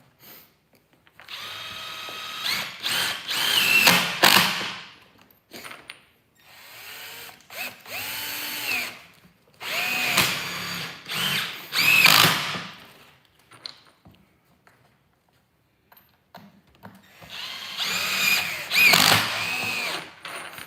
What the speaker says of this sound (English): I got this drill right here with no battery at the dump